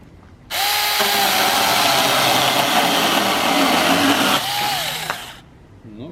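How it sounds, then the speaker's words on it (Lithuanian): A Boxer BX3320 cordless pole saw cuts through a fairly thin wooden board, its motor starting abruptly into a loud, steady high-pitched buzz for about five seconds, then winding down with a falling whine. "išbandysim pjūklą Boxer BX3320, pasižiūrėsim, kaip realiai įsipjauna"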